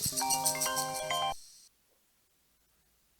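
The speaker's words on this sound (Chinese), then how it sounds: "这就是我们帮主刀疤的电话，他肯定知道。" A phone ringtone plays a bright, tinkling melodic jingle loudly for about a second and a half, then cuts off into near silence.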